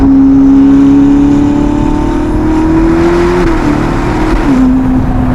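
Loud, close engine note of a 1109 hp Novitec-tuned Ferrari SF90 Spider hybrid supercar, a sustained high rev that climbs, holds and shifts pitch with a steady drone underneath, no voices.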